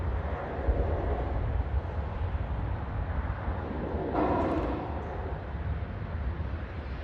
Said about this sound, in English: Beautiful, smooth touchdown for the Dreamliner.